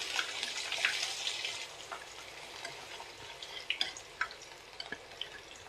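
Three large chopped onions frying in a pan of hot oil, giving a steady, fairly faint sizzle with occasional small pops and stirring clinks, and no talk over it.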